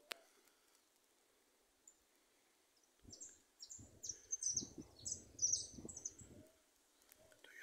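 Goldfinches sing in the open over a patch of scrubland, giving a run of bright, quick chirps and twitters. The song is moderately close and fairly faint, with light rustling underneath and brief clicks before it starts.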